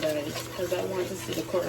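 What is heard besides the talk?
No everyday noise stands out behind the speech.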